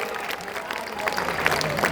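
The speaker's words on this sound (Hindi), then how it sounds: "एक बार बेलदौर के लिए ताली लगाइएगा" An audience at a political gathering claps for Beldaur's vote count, scattered applause rising into a loose patter of hands while a voice carries over the crowd.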